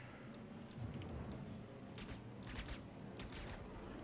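Spaceship weapons firing in the Star Citizen video game, with bursts of rapid, sharp shots in a few clusters over a low, constant rumble, no one speaking.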